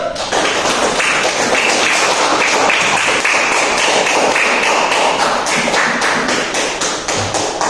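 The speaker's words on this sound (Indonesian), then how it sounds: "Aplaus." A classroom of students at an Islamic junior high school in Aceh Utara applauds a presenting group, with dense, steady clapping that holds loud and continuous for the whole stretch.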